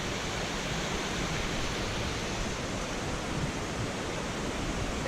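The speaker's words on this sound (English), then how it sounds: "Pretty waterfalls." A waterfall beside a hiking trail gives a steady, broadband rushing roar, continuous and fairly distant, with no voices.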